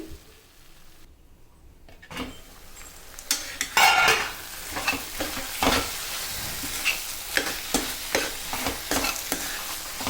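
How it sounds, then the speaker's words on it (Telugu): Potato and capsicum curry being stirred in a hot pan, with a soft sizzle under repeated scraping and clinking of a spoon against the pan. "మంచిగా మిక్స్ చేసుకొని టూ మినిట్స్ మూత పెట్టుకొని కుక్ చేసుకోండి"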